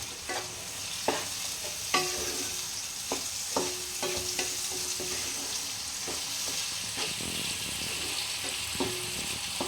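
Egg dal tadka sizzling in a pan over raised heat, with a continuous frying hiss broken by repeated sharp clacks of a spoon stirring and scraping against the metal, fairly close and free of talk.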